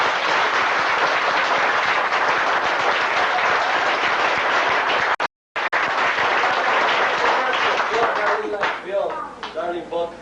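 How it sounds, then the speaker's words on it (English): Crowd applause at a small-town roadshow, loud, dense clapping that cuts out for a moment, resumes, then thins as voices come through near the end. "We'd like to give a big applause to them too."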